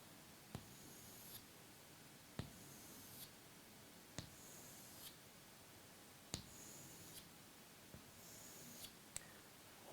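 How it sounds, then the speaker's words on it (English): A pencil or pen drawing vertical lines on paper, a series of short scratchy strokes repeating about every two seconds, faint and close, with quiet room tone between. "I'm going to draw a vertical line down."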